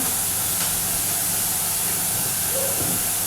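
A steady, fairly quiet hiss of escaping steam from a pressure cooker cooking chicken runs throughout, with a faint clatter underneath and no talking.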